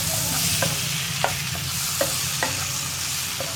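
Capsicum and tomato sizzle in a hot pan while a spoon stirs them, giving a steady frying hiss broken by several sharp scrapes and clinks.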